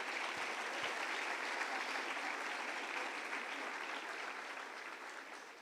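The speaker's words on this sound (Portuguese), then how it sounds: "Você pode aplaudir o nome do Senhor Jesus?" Applause from a church conference congregation fills the room with dense, steady clapping that holds loud throughout and eases only slightly toward the end, with no voices over it.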